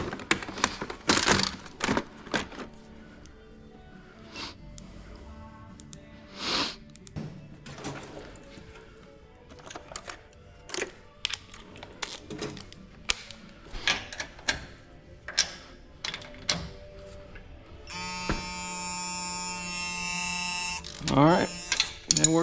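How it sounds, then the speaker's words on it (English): A gear wrench ratchets a 17mm rear shock bolt on a 2022 Toyota Tacoma during a Bilstein shock install. Bursts of quick, close clicking ticks are broken by short pauses, and a harsher buzzing rattle comes near the end. "the only other bolt we have left to torque is right here, our 17mm. We're gonna pull out the old gear wrench for that"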